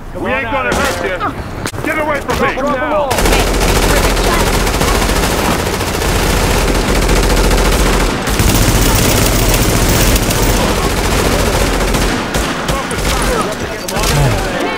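Rapid automatic gunfire and heavy bursts fill a firefight in the video game The Division. The shooting is loud and nearly continuous, with someone talking briefly at the start.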